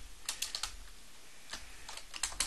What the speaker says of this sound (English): I can type my message.